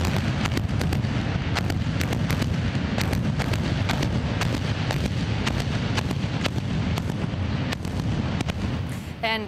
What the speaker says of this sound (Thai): This morning in Rochester, Kodak imploded one of its buildings on the company's campus.